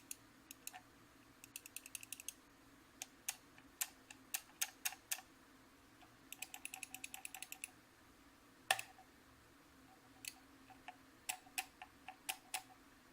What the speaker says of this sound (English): Okay, here's the left click.